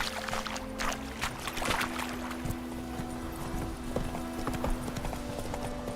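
Hooves of the horse Roach in The Witcher 3 clip-clop at a steady gallop throughout, close and clear over faint in-game ambience.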